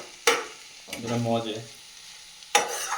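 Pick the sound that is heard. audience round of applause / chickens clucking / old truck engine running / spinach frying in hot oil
spinach frying in hot oil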